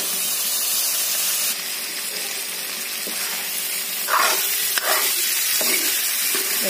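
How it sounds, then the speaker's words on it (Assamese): Spices fry with turmeric in a pan as a steady, close sizzle, joined in the second half by several short scraping stirs. "হালধি দি গোটেইখিনি মছলাৰ কেঁচা গুণ নোযোৱালৈকে ভাজি লৈছোঁ।"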